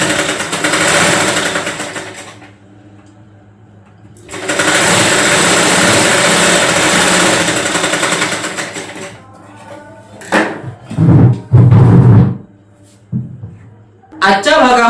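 A sewing machine stitching a blouse runs in two long steady whirring bursts, the second longer, followed by shorter irregular sounds and voices near the end.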